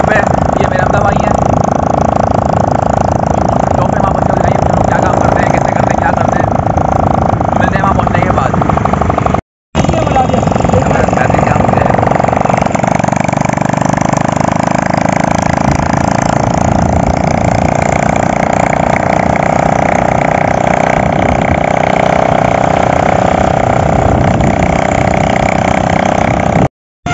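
Motorbike engine droning steadily while riding to work, with constant low-mid rumble and wind noise throughout, briefly cut once; talk is mixed in over the ride.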